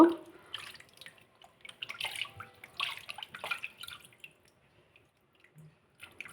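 Fish being washed by hand with water, with soft splashing, dripping and squishing sounds in a quiet, close setting.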